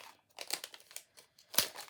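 Plastic packaging from an AliExpress order crinkles as it is pulled open, in short, close, soft crackling bursts with a sharper rustle near the end.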